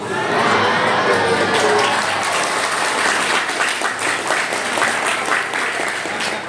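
A large audience at a Ramadan religious gathering bursts into sustained applause mixed with cheering and shouting children, dense and loud throughout.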